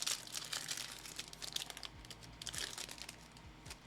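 Trading card packs tear open with crinkly foil crumpling and ripping, quick rustling bursts close to the ear, faint and continuous over about four seconds with no voice.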